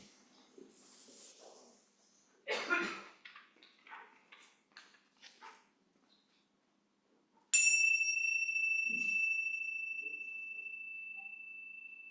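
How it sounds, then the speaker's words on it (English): A single bright chime rings out and sustains, slowly fading, after a stretch of quiet rustling and soft background sounds during a worship service. "let us center our hearts and minds with the ringing of the chimes"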